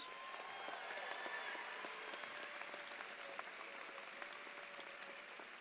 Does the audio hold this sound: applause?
yes